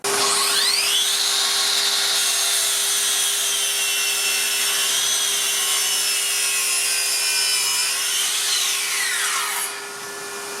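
A Makita 40v LS002G cordless mitre saw making a 45-degree mitre cut in timber: a high whine spins up, holds through a single steady cut of several seconds, then winds down, leaving a faint hum.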